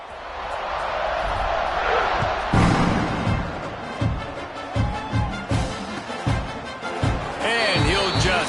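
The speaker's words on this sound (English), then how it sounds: "this crowd is buzzing after that last score" Stadium crowd buzzing after a score in an NCAA football video game, Oklahoma playing Tennessee, a loud steady roar with scattered thumps and whistles beneath an announcer's voice.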